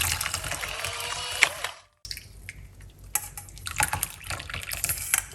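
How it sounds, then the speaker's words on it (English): Mint and lemon detox brew poured off from a pot, a steady liquid splash and trickle that breaks off briefly, then resumes with light drips and clinks; close and moderately loud, with no talking. "So we pour it off."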